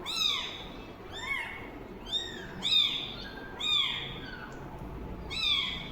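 A kitten cries softly in a series of thin, rising mewls, about six short calls spaced roughly a second apart, fairly close and alone with no talk.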